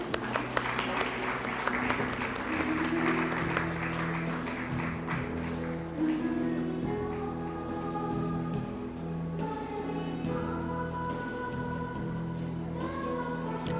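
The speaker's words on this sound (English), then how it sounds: "A big round of applause" Audience applause at a FLO Indore gathering: a thick burst of clapping for the first several seconds, fading as steady background music with sustained tones takes over and runs to the end.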